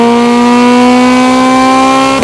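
A Honda Civic EP3 Type-R with a Skunk2 exhaust holds a loud, steady high-rpm engine note, strongly harmonic and close, before it drops off abruptly at the end.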